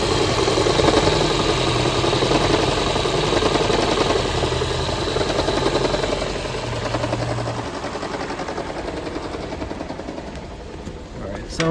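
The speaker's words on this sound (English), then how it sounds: "The customer's car started rattling, sitting at a traffic light." A 2008 Toyota Prius engine idles with a rough, rattling, misfiring running note, steady and close throughout with a low uneven throb, easing slightly toward the end.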